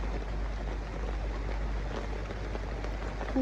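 Steady rain falls over a flooded garden where vegetable plots lie underwater, a soft continuous hiss with scattered drops and no voices.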